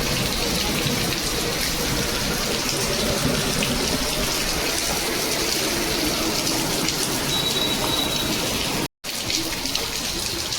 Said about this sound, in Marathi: आमच्या इथे आता पाऊस पडतो